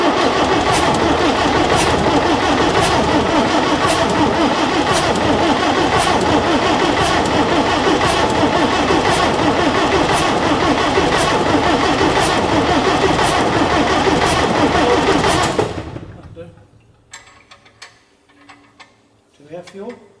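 An old London bus engine being wound over catches and runs with a loud, steady, rhythmic chug for about fifteen seconds, then cuts out abruptly into quiet, with faint voices after.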